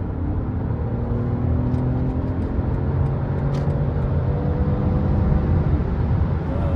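A truck engine drones as the vehicle accelerates, a loud, steady low rumble that holds for several seconds, with faint light clicks on top and no voices.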